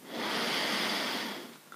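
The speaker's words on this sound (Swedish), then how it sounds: "Andas in." One long, steady inhale through the nose during a morning yoga exercise, close and soft, swelling gently and then fading, with no talking.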